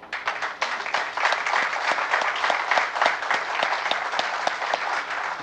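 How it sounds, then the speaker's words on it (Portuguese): An awards ceremony audience applauds steadily, a dense wash of many hands clapping at once that swells quickly and holds strong, close and loud, with no talk over it. "E a esses eu gostaria de solicitar uma salva de palmas."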